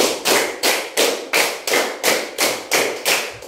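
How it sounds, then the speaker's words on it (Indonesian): Two rounds of five claps in an ice-breaking group clapping game: ten crisp, evenly spaced slaps in a steady rhythm, close and loud, with no voices. "2 kali tepuk 5"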